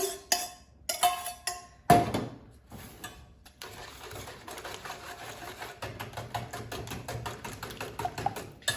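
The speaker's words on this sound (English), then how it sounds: "So I'm going to give this a light beat." A whisk or fork lightly beating egg in a bowl for butter tarts, quick sharp clinks at the start, then a steady soft rhythmic tapping and scraping that keeps going at a modest level.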